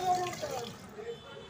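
Water running while spilled tea is washed off a gas stove in a home kitchen, a steady close splashing wash that fades after about a second, with faint voice-like sounds beneath.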